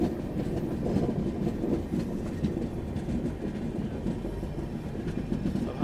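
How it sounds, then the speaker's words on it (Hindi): The 12431 Trivandrum Rajdhani Express crawls slowly along the rails, giving a steady low rumble of rolling carriages with soft, continuous wheel clatter throughout, fairly close and with no voices. "अब हमारी ट्रेन भाई क्रॉल कर रही है।"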